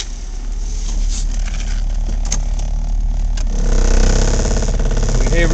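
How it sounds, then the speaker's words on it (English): A 2003 Dodge Neon engine runs at a salvage auto shop, a steady mechanical hum with a few clicks, rising to a louder, rougher rev near the end. "We have it running now at Lews Auto Service and Salvage. The motor sounds good."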